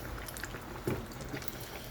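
Fried chicken pieces cooking in hot oil, a steady low sizzling hiss that runs evenly throughout with a brief bubbling burst in the middle.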